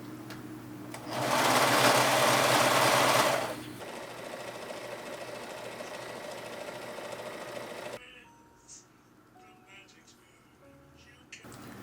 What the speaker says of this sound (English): I'm gonna serge the lining and the outside together at the top here